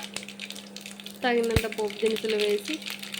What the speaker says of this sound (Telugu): తగినంత ఆయిల్ వేసుకున్న తర్వాత పోపు దినుసులు వేసి